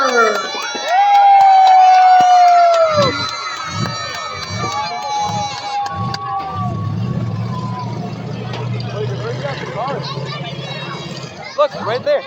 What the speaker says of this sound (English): make some noise for the Haymaker!